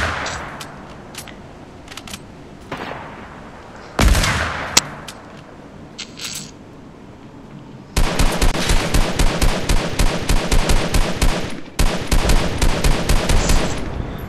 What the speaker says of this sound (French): il a essayé de me tirer dessus